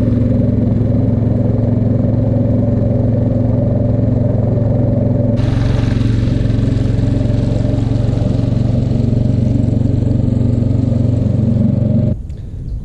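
A micro skiff pushed by a 6hp outboard motor runs steadily with a loud, continuous buzzing drone and a rougher, brighter engine tone partway through, then drops off near the end.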